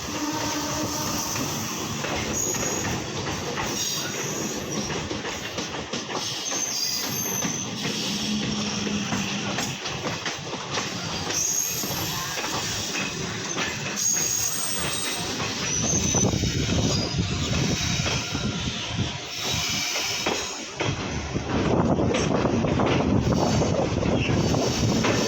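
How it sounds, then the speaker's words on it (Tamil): A Chennai Beach to Tambaram passenger train rumbles past nearby near Chennai Egmore for a long stretch, steady clattering and rushing noise swelling louder toward the end, with wind buffeting the microphone. "பீச்சிலேருந்து தாம்பரம் போகிற ட்ரெயின் வந்து இப்போ போயிட்டுருக்கு லெஃப்ட் சைடில்"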